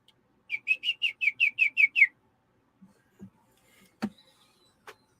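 Eight quick, evenly spaced whistled chirps imitate a bird call, followed by a pause and a few sharp knocks and clicks.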